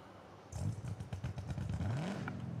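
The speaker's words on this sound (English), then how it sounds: "Just that spittiness of the exhaust snare," A classic Ford Mustang in Farming Simulator 22 rumbles with a spitting, crackling exhaust, low rapid pops pulsing as the engine revs and climbs, loud and close with no talk.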